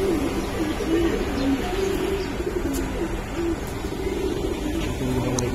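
Pigeons coo steadily and close together in a pigeon shop, low repeated coos overlapping in a busy background with occasional higher calls.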